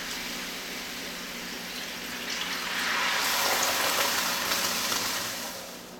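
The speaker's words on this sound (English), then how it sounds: "first in goes the maple syrup. And then the orange juice" Maple syrup and orange juice pour into a hot pan of spices for a maple glaze on pork loin, making a steady close hiss and liquid rush that swells midway and then eases.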